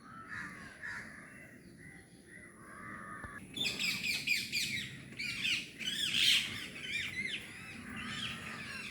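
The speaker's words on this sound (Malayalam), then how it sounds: "ഇതാ ഈ തെങ്ങിൽ തത്ത ഇരിക്കുന്നു, പക്ഷേ പിടിച്ചിട്ട് കിട്ടണില്ല" Parrots squawking in coconut trees: shrill, harsh squawks and chattering calls, faint at first and then a louder burst of overlapping cries from several birds at a moderate distance.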